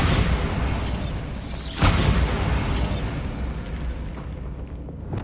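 A Bombarda spell explosion in Hogwarts Legacy erupts as a dense, rumbling blast with a sharp burst near the middle, then a rolling debris roar that slowly fades away.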